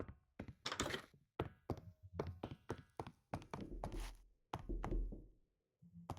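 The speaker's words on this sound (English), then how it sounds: "everybody heard the knock, right?" Knocks on a door in a video game come as a quick series of loud, hollow thumps in uneven bursts, with short gaps between the groups.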